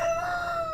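A rooster crows once, a short, faint call heard from a little distance at a farm where animals were being evacuated.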